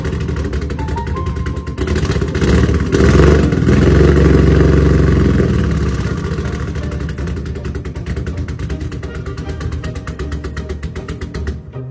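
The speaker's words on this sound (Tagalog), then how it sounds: "Parang naging palyado na tapos namamatay bigla yung makina." A loud Nissan Skyline R33 engine misfires and runs unevenly, sputtering and faltering as it idles roughly, with a brief surge early on before settling into a choppy, stuttering rhythm.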